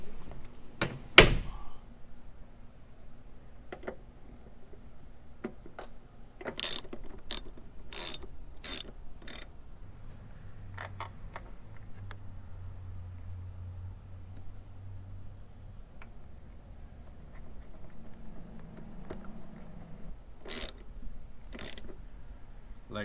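A 10 millimeter socket wrench tightens a terminal nut on a 2018 Jeep JL during a trailer wiring harness install, with sparse bursts of ratchet clicks and a few knocks, close and quiet, without talk.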